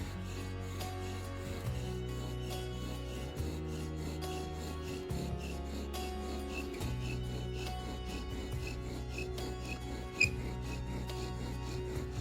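Rhythmic wooden grinding and rasping as a wooden bow drill spins back and forth against a wooden fireboard under downward pressure, steady strokes repeating with a faint creak, no talking.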